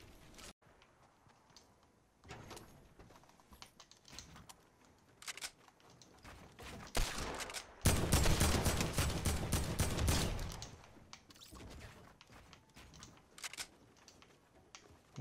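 Fortnite Season 9 gunfire rings out in scattered shots and short bursts, building to a dense, loud volley of rapid shots midway before thinning back to sporadic fire.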